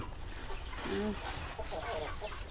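Domestic backyard chickens on a mixed farm cluck in short, close bursts over a constant noisy outdoor background, with a voice speaking in between.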